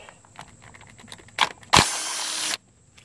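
Hidden valve cover bolt being removed on a 2009 Chevy Malibu's Ecotec 2.4 engine, a few light clicks and clanks followed by a close power tool burst of just under a second, then quiet.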